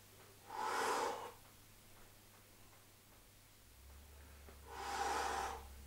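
Two slow, breathy exhalations a few seconds apart during a hip bridge exercise, close and clear against a quiet background, each rising and fading over about a second.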